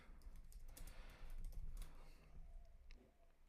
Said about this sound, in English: So I'm going to type it in here in Google.